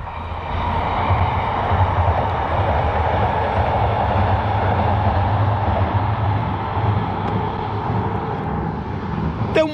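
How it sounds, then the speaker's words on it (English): A train passes near the coast, with a steady low rumble and rolling rail noise lasting throughout at moderate loudness, ending in a brief sharp noise close to the microphone. "Yeah, let's wave at the train."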